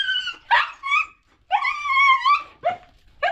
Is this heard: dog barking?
yes